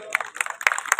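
An audience claps at an oath-taking ceremony. The burst of applause is brief and lively, with scattered sharp claps over roughly a second.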